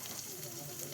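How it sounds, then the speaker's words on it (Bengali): Spice paste with salt, turmeric, chili powder and pre-fried shrimp frying in a pan in a village kitchen, a faint, steady sizzle and hiss over one brief moment. "এখন মশলাগুলো ভালো করে ভাজি করে নিচ্ছে"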